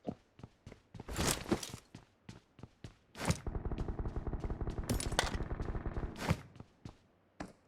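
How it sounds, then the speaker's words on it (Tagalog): Gunfire in the battle game PUBG: scattered single shots and footsteps give way to a sustained rapid burst of automatic fire, then a few more isolated shots, fairly close and without talk. "May nagbabarilan sa kabila."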